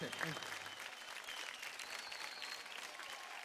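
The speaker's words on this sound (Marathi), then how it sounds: "जोरदार टाळ्या होऊन जाऊ द्या आपल्या स्वप्नीलसाठी" Audience applause on a Marathi TV dance competition show stage, a dense, steady wash of clapping from a crowd, fairly far off and soft, with a voice briefly heard at the start.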